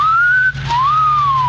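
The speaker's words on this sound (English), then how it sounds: "you should have made the whistle shorter, like this" A person whistles a single clear, close tone that rises then briefly breaks before resuming with a gentle rise and fall, alone and fairly loud.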